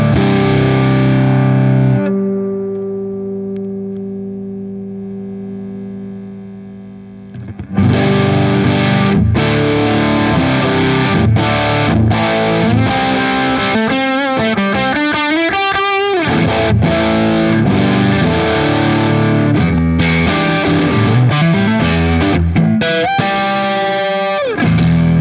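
Distorted electric rhythm guitar run through an effects unit, a sustained drone fading at first, then loud, dense chugging chords and riffs played continuously for about twenty seconds.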